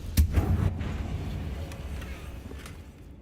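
Confringo blasting curse explosion in Hogwarts Legacy, a sudden close boom with a rumbling low tail that fades over a few seconds, followed by a couple of fainter distant thuds.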